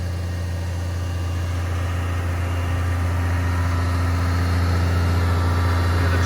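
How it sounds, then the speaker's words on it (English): A tractor engine runs at a steady low drone with a constant hum while a big boom sprayer covers two crop rows on each side. "When I'm using my big boom, spraying 2 rows on each side of the tractor"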